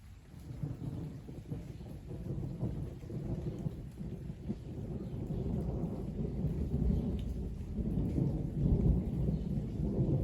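A deep, rolling rumble of thunder builds and swells over steady rain, growing louder toward the end as the storm churns.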